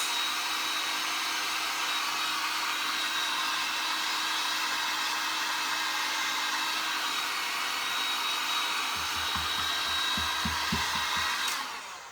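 A hair dryer blows a steady, loud, close whoosh onto a damp side of wood for a wood fire cracker, droning unchanged throughout before cutting off at the end, with a few faint low knocks partway through.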